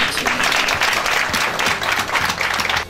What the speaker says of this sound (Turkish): alkış istiyorum.